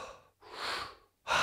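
Heavy, gasping breaths after a hard boxing round: three deep, ragged inhales and exhales close to the mic, loud and alone with no talking.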